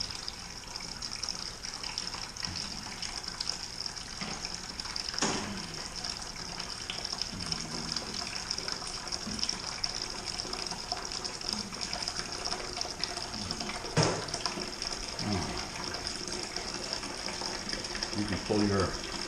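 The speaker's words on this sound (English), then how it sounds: "Fermenter number 2 getting filled." Home-brewed brown ale wort pours into a second fermenter during a 10-gallon batch, giving a steady, close rushing flow with a pump-like hum and a few knocks, under occasional speech.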